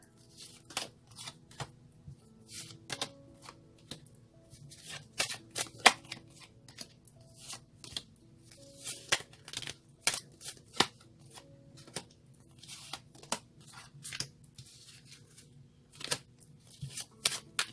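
Tarot cards being shuffled for a reading, with repeated crisp riffling snaps and soft slides in an irregular rhythm, close and fairly quiet, with no talking.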